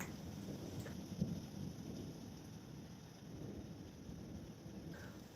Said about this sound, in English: it's another day of rain today, and it's Thursday, another day of rain